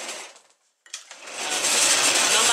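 A sewing machine running in short bursts as it stitches back and forth to lock a seam on knitwear, giving a close, buzzing motor whir that stops briefly and then resumes steadily.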